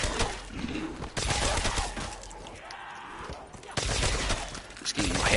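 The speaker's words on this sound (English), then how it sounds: "This ray gun Mark II, not Pack-a-Punch, is still like beast as against the zombies." Ray Gun Mark II energy weapon from Nacht der Untoten, blasting zombies in rapid repeated bursts that crackle and pop over a busy game soundscape, with a voice talking through parts of it.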